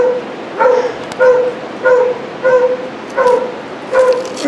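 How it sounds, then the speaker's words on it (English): A dog barks repeatedly outdoors near the Yaquina lighthouse, six or seven yipping, slightly whiny barks at an even pace, fairly loud and clear with no talking. "And that dog's over there barking."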